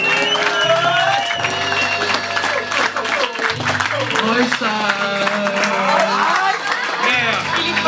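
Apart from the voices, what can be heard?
audience applause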